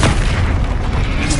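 Explosive spells go off in the video game Hogwarts Legacy as one dense, loud, sustained booming blast filling the whole moment, with no talking.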